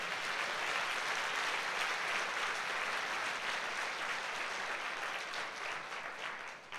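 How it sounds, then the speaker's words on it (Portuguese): A church congregation at a Sunday service applauds together, a dense, even wash of clapping from many hands that holds steady throughout and tapers slightly at the end, with no speech over it. "dê um aplauso ao Senhor."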